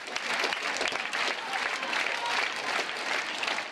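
A theatre audience gives a ballet dancer an ovation after his final performance, heard as a dense, even roar of applause throughout.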